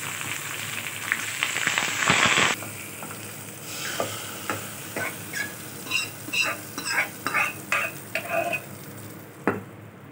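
A tempering of asafoetida, crushed shallots, coriander and curry leaves sizzles in hot oil for a cooking dal, a loud burst of frying followed by a rhythmic series of stirring scrapes and spits.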